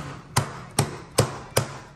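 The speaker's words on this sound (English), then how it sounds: "put some tension on it, and we're gonna staple every inch" Stair runner carpet being stapled to stairs with the runner tensioned by a kicker: four sharp, evenly spaced staple shots about 0.4 seconds apart, close and crisp.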